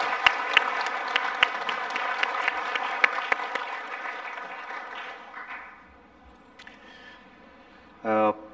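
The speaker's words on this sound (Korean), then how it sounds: "우리 박수 한번 좀 쳐주시겠습니까?" An audience at a government work report event applauds with dense rhythmic clapping that gradually fades away, followed by a brief burst of a voice at the end.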